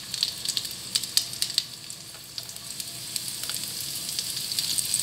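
Garlic and mushrooms fry in a pan, giving a steady close sizzle broken by crackles and pops, with a few stirring scrapes and no voices.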